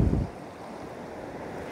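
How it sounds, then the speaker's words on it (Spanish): An overflowing river in Santa Bárbara near Gualala rushes over the paved highway during a hurricane, giving a steady broadband roar of water with wind buffeting the microphone at the start. "El río se desbordó de una manera"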